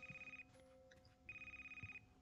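A telephone rings in a video game, two bursts of trilling electronic ringing separated by a short pause, quiet and clear over faint background hum.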